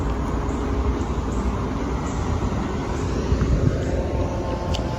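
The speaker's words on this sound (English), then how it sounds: "There's a truck coming." A truck drives past on a road beside a park, its broad low rumble steady and fairly loud for several seconds with no talk.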